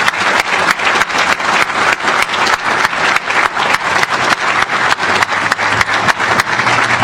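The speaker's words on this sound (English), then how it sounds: "let us give you a round of applause" Loud, close applause from an audience at a groundbreaking ceremony honoring state representatives, rapid sharp claps in a steady rhythm that continue unbroken throughout.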